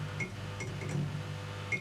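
A few faint, light metallic clinks, irregularly spaced, from an old broken Zippo lighter being handled, against a quiet background.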